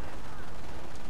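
Artillery and mortar fire in a real-time strategy game battle, a dense, continuous roar of blasts and crackling gunfire filling the whole moment without pause.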